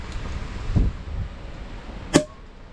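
A single sharp cork pop from a champagne bottle opened at a beach campsite, sounding close and clear after a stretch of quiet outdoor ambience.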